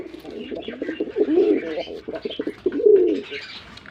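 A Red Golla pigeon coos repeatedly and loudly at close range in rhythmic throaty bursts, joined by faint bird chirps and brief human speech.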